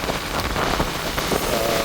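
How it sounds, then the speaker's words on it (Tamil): Heavy rain pours steadily during a storm in Mullaitivu, a dense, loud, continuous hiss with no break and no voices. "கடும் மழை பெய்து கொண்டிருக்கு"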